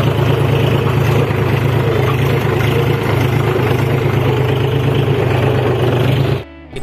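A tractor engine idles loud and close with a steady low rumble while a rotavator is being fitted, then cuts off abruptly at the very end.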